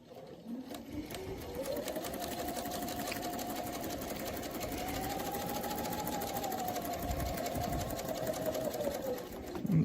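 A sewing machine runs back over a just-stitched seam, its motor whirring in a steady, continuous rattle for several seconds before stopping, fairly close and alone.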